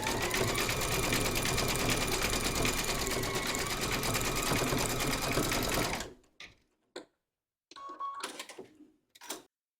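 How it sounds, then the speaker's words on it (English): An embroidery machine stitches fabric held in a hoop, running in a fast, steady mechanical chatter for several seconds, then stopping, followed by a few brief short bursts. "So I'm now going to stitch this little bit in round 3."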